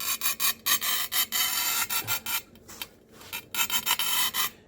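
A manual tile cutter scores a tile under firm pressure, giving repeated loud rasping scrapes in short strokes with brief pauses between them, close and with no voices.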